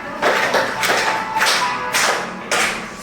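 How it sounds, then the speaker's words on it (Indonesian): A primary school class claps hands together in time with a song, giving broad, fairly loud bursts of claps that come in uneven waves across the room. "Tepuk tangan."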